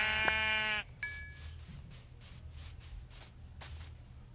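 A sheep bleats in the Minecraft video game, one loud wavering bleat up close, followed by a shorter second call and a series of soft swishing rubbing sounds.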